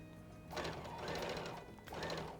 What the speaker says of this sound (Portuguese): desço a agulha, prendi e vou costurar